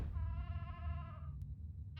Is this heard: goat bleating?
yes